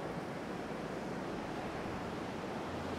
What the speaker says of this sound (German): Das ist schon etwas sehr ungemütlich, wenn der Wind so pfeift.